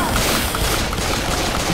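Dense, continuous gunfire from Left 4 Dead 2, a loud barrage of overlapping rapid shots with no pause, filling the whole moment with some vocal sound mixed underneath.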